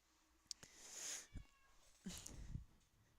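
A cat meows indoors, a quiet drawn-out call followed by a second, more strained cry, with small clicks and room noise around it.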